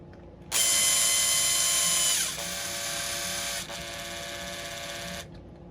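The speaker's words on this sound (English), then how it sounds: "You don't want to over tighten when you're drilling into any 3D printed stuff." A power drill drives screws into 3D printed parts of a custom RC hot rod sedan chassis, one loud steady whirring run that drops in pitch twice as it bears down, then stops abruptly, close up with no talk.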